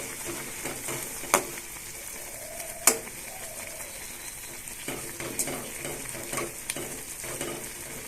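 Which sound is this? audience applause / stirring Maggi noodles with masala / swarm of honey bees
stirring Maggi noodles with masala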